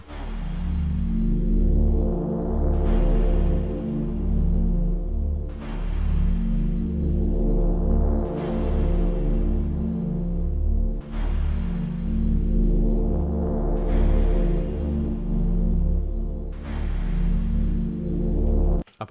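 A drum and bass track intro plays back loudly, with sweeping pads and deep sustained bass swelling and resetting in repeating phrases roughly every three seconds, stopping abruptly at the end.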